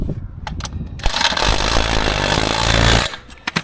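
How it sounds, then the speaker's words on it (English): During assembly of a Rosso E-bully ATV, a nut is retightened with a power tool: a loud, steady whir lasting about two seconds, with scattered clicks and knocks before and after. "just retightening the nut from the other side"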